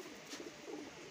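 Sialkoti pearl-marked pigeons cooing softly in a short burst, low throaty coos close by against a faint hiss, with no talking.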